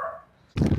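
A street dog gives a single short, loud bark near the end, close by, after a faint whimper-like tone.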